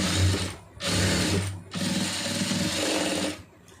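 Sewing machine stitching the side seam of a lined blouse, running in three loud, steady bursts with short pauses between them, heard close up with no talking.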